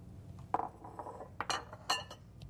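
Canned black beans, rinsed, tumble into a salad bowl with a few glassy clinks and soft clatters, sharp close bursts scattered over about two seconds in an otherwise quiet kitchen.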